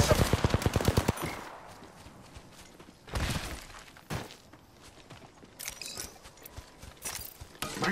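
Bursts of automatic gunfire in the battle royale game Apex Legends, a rapid rattling volley at the start followed by sporadic louder shots and scattered fire over several seconds, with no talk.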